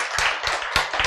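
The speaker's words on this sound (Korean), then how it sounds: "박수." A small congregation claps in a sermon hall, a short burst of several sharp, close hand claps in quick uneven rhythm with no talking.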